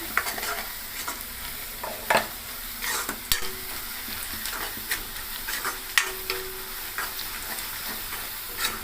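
Coriander and garam masala sizzle in hot oil while being stirred for puri masala, with a constant close frying hiss and repeated scraping clinks of the spoon against the pan.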